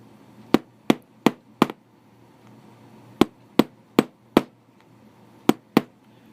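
A nail head taps a part into a Hobbytown of Boston ALCO PA-1 model train truck: crisp, close, small knocks in short bursts, four quick taps, then four more, then two, over quiet.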